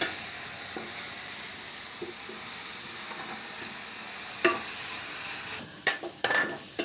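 Crab roast cooked Kerala style is stirred in a pan, giving a soft continuous sizzle and hiss. Occasional scrapes and clinks of the spoon against the pan sharpen near the end.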